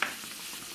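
Crucian carp cook in beer in a frying pan, giving a steady, soft hiss of sizzling with a brief clink at the start.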